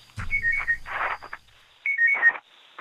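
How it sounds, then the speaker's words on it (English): An alarm beeps in two bursts of rapid repeated high tones, loud and close, with a gap of quiet between them. "what's that beeping? That's not me. I'm trying to turn the alarm off."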